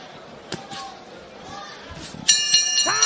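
A boxing ring bell rings out at the end of a round, a few bright metallic clangs near the end under crowd noise and commentary.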